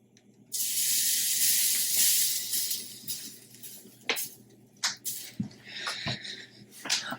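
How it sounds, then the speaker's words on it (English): A sudden loud sizzling hiss from a hot pan heating for steak, fading into scattered crackles and pops as water droplets hit the surface. "I'm going to test the heat by dropping some water droplets into the pan"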